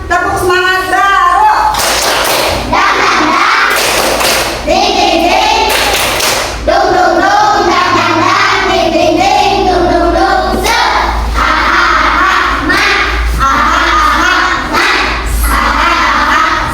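Children in a classroom clap a rhythmic spirit clap led by their female teacher, loud bursts of hand claps and thumps in patterned groups, with voices chanting along throughout.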